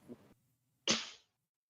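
A single sharp sneeze bursts out close and loud after a brief quiet moment, preceded by a faint murmur, during a tabletop role-playing game session.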